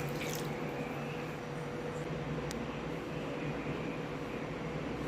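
Steady watery pouring and trickling as water is poured into pepper-cumin rasam, at a moderate level, with a low background hum and no talking.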